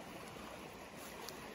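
Rushing water of a spring river swollen by heavy snowmelt and rain, a steady broadband roar filling the clip at low level, with no voices.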